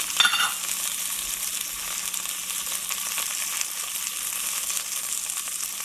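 Ginger garlic paste fries in a pot of paya soup with a soft, steady sizzle and faint crackle. It begins with a brief louder burst and then holds an even hiss.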